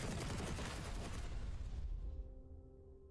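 Weapon fire striking a target in Space Engineers 2: a dense, continuous rattle of rapid shots and impacts that stops after about two seconds, leaving a quiet humming tone, fairly faint overall with no talk.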